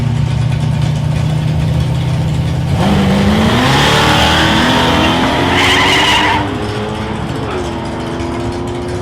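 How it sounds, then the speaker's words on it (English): Drag racing cars, a white Holden Commodore with a 5-litre Holden engine and a 4-litre turbo Fairmont, roar loudly at a Ballarat strip, engine pitch sweeping upward as they launch down the track before the din eases. "Preston in lane 2 in his white Vowel Commodore with a 5 litre Holden engine, and in lane 1 Peter Zabalik in his 4 litre turbo Fairmont."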